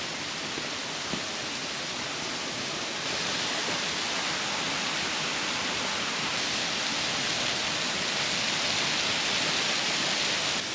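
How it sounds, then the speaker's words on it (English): Waterfall in Victorian High Country heard from a walking track beneath the falls: a loud, steady, dense roar of falling water filling the whole clip, with no voices. "We are under the waterfall right now, looking out"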